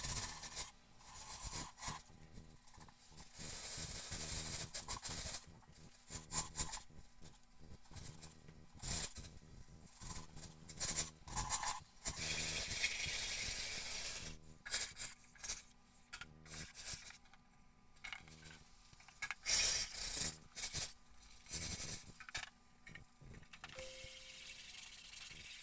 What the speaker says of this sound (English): Sand it down.